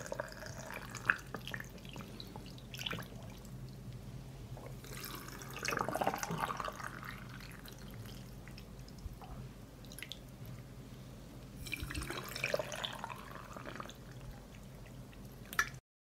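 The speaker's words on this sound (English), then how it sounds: "I pour cold water into each jar to cover the plums." Cold water pours into glass jars packed with plums during home canning, a low trickling and splashing that swells in two louder bursts, with quiet drips between and no talk.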